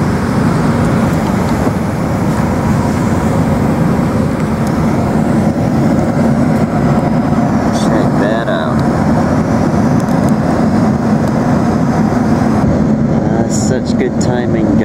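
A passenger airplane taking off on a flight to Africa, a loud, steady, broadband engine roar heard from inside the cabin for the whole stretch, with faint rattles and clicks now and then.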